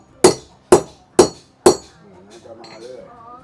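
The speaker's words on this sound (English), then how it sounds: "So you see he bangs it right there." A hammer strikes the lip of a metal bowl being shaped, four sharp ringing clanks at an even pace, each decaying quickly, followed by faint background clatter and a soft voice.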